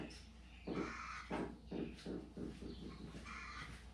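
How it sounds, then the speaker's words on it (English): A chicken squawks repeatedly in a rhythmic series of harsh calls, fairly near, heard alone outdoors during brake repair work. "Fucking chicken is squawking today too."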